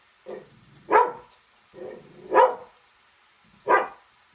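Dogs bark repeatedly in a kitchen, drawn by the smell of liver being cooked, giving three loud sharp barks in uneven rhythm with softer whimpering yips between them, close by and with no talking over them.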